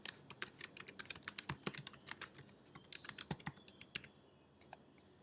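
Fingers type on a computer keyboard with a quick, uneven run of crisp key clicks, close and fairly quiet, then slow to a few scattered taps, with no voice.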